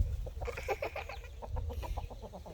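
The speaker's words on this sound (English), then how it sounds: "The lean-to is our turkeys and our Cornish hens." Cornish hens and turkeys in a backyard lean-to cluck in a quick series of short, soft calls, heard close against low background rumble.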